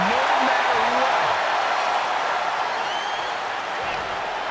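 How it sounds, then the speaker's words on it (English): Arena crowd noise from the WWE 2K25 wrestling video game on Xbox Series S, a steady, loud roar of cheering that holds for the whole stretch without breaks. "Listen to this crowd, driving these competitors to leave everything out in the ring."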